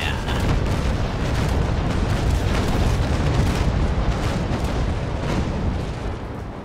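Ship cannons fire a broadside in the Naval Action naval battle game, a loud, dense rumbling barrage that booms continuously and alone for several seconds.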